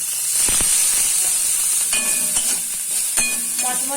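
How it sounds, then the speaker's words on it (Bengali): Small shrimp frying in oil until crisp, a loud close sizzle with brisk scraping and clinking of a spatula against the pan. "মচমচে করে ভেজে দিয়েছি আমি চিংড়ি মাছটা"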